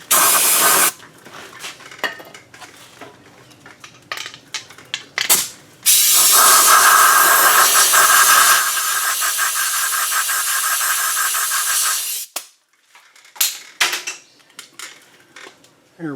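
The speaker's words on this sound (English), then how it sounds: "A little bit of brake clean." Brake cleaner sprays in long loud hissing bursts onto the front brakes of an Audi Q5, several blasts with short gaps, one sustained for about six seconds, followed by a few clanks of tools.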